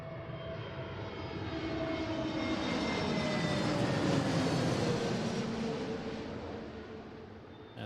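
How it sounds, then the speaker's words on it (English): An American Airlines Airbus A321 passes at Seattle airport, its jet roar swelling, peaking midway and fading away as it goes by, heard alone from the ground. "And that's a 321."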